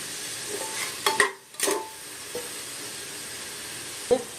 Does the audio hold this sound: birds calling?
no